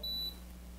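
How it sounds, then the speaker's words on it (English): A Precision Digital Vigilante II alarm annunciator gives a single short, clear electronic beep when a momentary alarm trips, then goes quiet against a low steady hum. "Now what happens if you get a momentary alarm? It goes on and then back off again."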